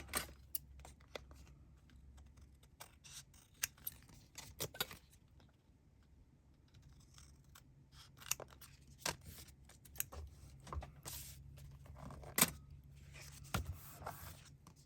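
Scissors trimming paper ephemera for a blue ephemera bag, heard as quiet, irregular snips and paper rustles spread across the stretch with no voices.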